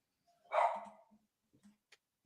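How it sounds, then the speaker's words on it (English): A dog barks excitedly once, loud and close, then a few softer short yips and whimpers follow with gaps of quiet. "This dog's going mad, I think."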